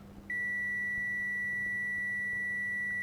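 A steady, high-pitched continuity beep from an RF4 RF-17N multimeter starts abruptly and holds unbroken for about three seconds, clear and close over a faint low hum.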